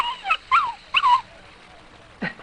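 Several small dogs whimper and yip in short, high-pitched bursts within a household kept with cats and violins, fairly close and moderately loud with pauses between cries.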